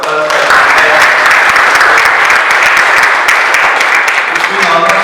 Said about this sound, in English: I request all of you to give a big round of applause for the entire.